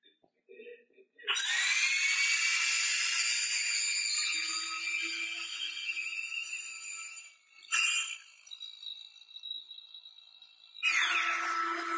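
Power tool drilling and diamond-blade cutting of holes into a curved concrete surface for a carbon fiber crack lock repair, a loud sustained whine with brief stops and restarts.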